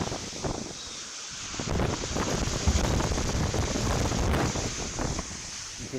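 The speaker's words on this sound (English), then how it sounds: "You can hear the wind really picking up." Strong hurricane wind roars steadily across a live outdoor camera beside large, cresting surf, a dense buffeting rush with gusts that swell and fade and no voices.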